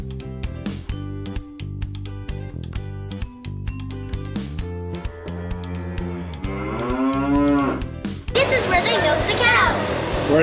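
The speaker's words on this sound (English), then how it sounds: "Where are the cows?" Cows moo in long, loud, sliding calls, close by at a county fair, while children's voices chatter and call out around them.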